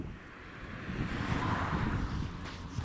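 Soft morning wind rushing and buffeting, cold and gusty, a low steady roar rising slightly in the middle, with no voices.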